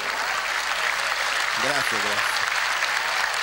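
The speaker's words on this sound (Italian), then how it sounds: "un applauso" Audience applause at an anniversary celebration marking fifty years of activity, a dense steady wash of clapping filling the room throughout, with a voice briefly speaking over it near the middle.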